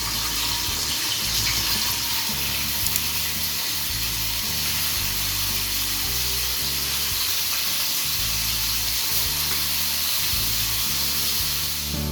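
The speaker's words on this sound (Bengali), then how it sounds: "চিংড়ি মাছগুলো ভেজে নিই।" Prawns fry in a pan, giving a loud, continuous, hissing sizzle close by that holds steady throughout without voices.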